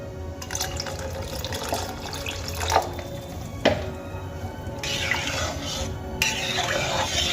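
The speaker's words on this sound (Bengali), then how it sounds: "এবারে ডালের মধ্যে আমি দিয়ে দেবো সামান্য জল" A small amount of water poured into methi dal in a cooking pot, a close watery pouring and splashing with a few clinks of utensils.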